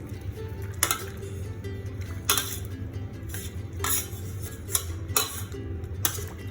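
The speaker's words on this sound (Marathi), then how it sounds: "आता हा जो रगडा आहे आपल्याला हा स्मॅश करून घ्यायचा आहे" Cooked ragda, a pea curry, being mashed in a pressure cooker pot, with repeated metal scraping and clinking strokes at a steady rhythm, close and moderately loud, over a low background hum.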